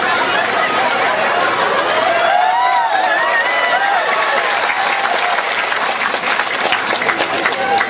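Applause from a mosque audience at a humorous Islamic sermon, a dense steady clatter of clapping mixed with crowd murmur and a few shouts, sustained throughout.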